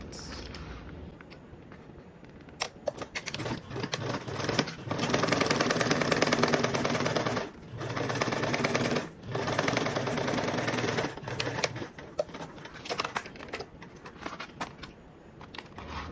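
A sewing machine stitches stiff mesh with a 3/8 inch seam allowance, its motor running in steady bursts of several seconds broken by short pauses, close and fairly loud, with small clicks and rattles between runs.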